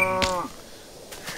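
A cow in the video game Minecraft, played with the Tekkit modpack, gives one short harmonic moo up close, followed by faint game sounds.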